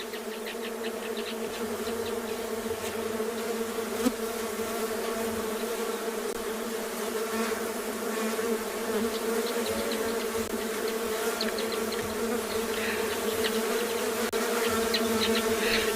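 Dense, steady buzzing of a swarming bee colony on a sunset safari, many insects droning continuously at close range with a constant hum throughout, no voices.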